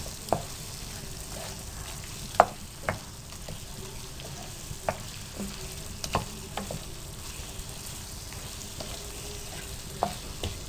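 Beef masala boti with chopped green chillies frying in a pan, a continuous moderate sizzle broken by occasional sharp spoon clicks and stirs, heard up close without voices.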